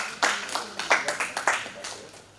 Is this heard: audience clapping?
yes